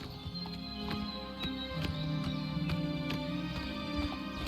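A horse in the video game Oblivion clip-clops with regular hoof strikes at a moderate pace over a steady background hum, fairly close and clear, with no talk.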